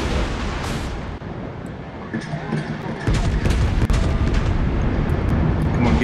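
Torpedo hits and explosions in the naval combat game World of Warships: a dense, loud barrage of booming blasts and gunfire rumble that swells partway through and stays heavy to the end.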